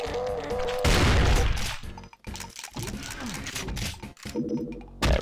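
Loud, chaotic shooting in the Brutal Doom mod for Doom: bursts of gunfire, booming impacts and crashes come close together, with brief gaps, and a voice talks over part of the action.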